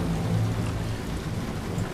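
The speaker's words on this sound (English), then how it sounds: "Well, it's raining" Rain pours steadily with a low rolling thunder rumble in the video game Titanfall 2, a dense, loud wash of noise with no speech.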